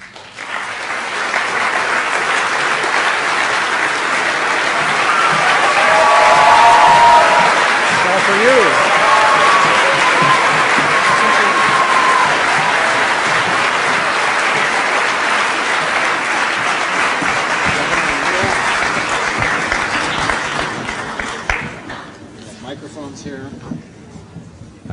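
Large crowd applauding warmly in a big hall as speakers, including the strategic advisor to Arnold Schwarzenegger, are welcomed; loud, dense, steady clapping for about twenty seconds before fading out.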